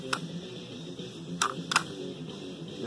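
A tape gun closes around a grapevine to fasten tape over the vine, giving a few sharp, close clicks and snaps spread across a quiet background.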